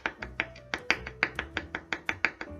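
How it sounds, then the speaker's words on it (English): Garlic being smashed and minced for an avocado salad, heard as about fifteen quick, even, close knocks of a tool striking a hard surface, with no voices. "Gonna mix that garlic up really, really good. Smash it up because you want that to be minced."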